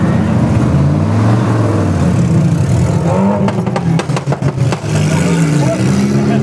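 A lowered 1968 Ford Galaxie 500 V8 revs close by, its deep engine note rising and falling with a burst of sharp revs midway, while people talk over it.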